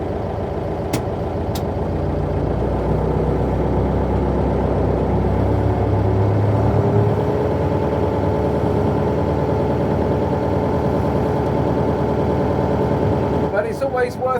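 A Mercedes 709d minibus engine pulls away, its diesel rumble steady and close throughout, with a brief rattle near the end.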